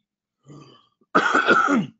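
A soft throat sound followed by a single harsh, close cough, brief and alone in a quiet room.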